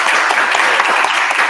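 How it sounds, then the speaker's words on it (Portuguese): Dense, loud applause from an audience at a presentation, many hands clapping continuously and evenly for a short burst with no pauses. "Vamos aplaudir."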